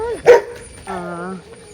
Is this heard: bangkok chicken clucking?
no